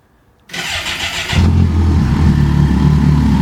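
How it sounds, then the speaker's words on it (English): A Kawasaki Concours 14 motorcycle with an aftermarket Delkevic exhaust cranks and fires up, settling into a loud, deep, steady idle with a throaty rumble. "We're about to fire up the Concours with the new Delkevic exhaust."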